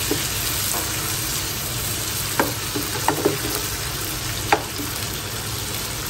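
Shrimp sautéing in a frying pan, a steady close sizzle with a few sharp scrapes or taps of a utensil against the pan scattered throughout.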